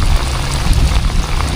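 Rain pattering on a raincoat up close, a loud, dense, continuous drumming of drops on the fabric during a fishing trip, with no voices.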